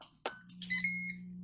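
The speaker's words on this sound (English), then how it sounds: "so the timer just went off." A Ninja Foodi cooker's timer goes off after a broil cycle, giving a short series of electronic beeps over a steady low hum, close and fairly quiet, with no voices.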